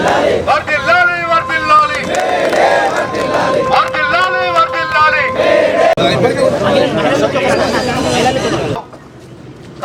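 A large crowd of workers in Telangana raises May Day slogans, voices massed in loud rhythmic chanting and shouted calls that carry steadily for about nine seconds before dropping away into near silence.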